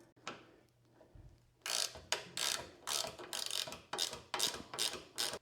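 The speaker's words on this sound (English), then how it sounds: "Just trying to go down and let it get a little tight so I can pull some tension on this wrench." A SUZUME reversible ratchet wrench tightening a bolt in a garage gives a run of about nine quick, close ratcheting clicks, each burst loud and crisp against a quiet background.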